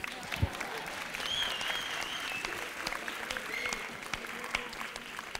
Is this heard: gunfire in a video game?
no